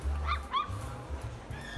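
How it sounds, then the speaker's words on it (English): Puppies and dogs in a pet shop at a mall give high, squeaky yips and soft whimpers, close by, a few short cries in quick succession over low background noise. "Very adorable dogs or puppies."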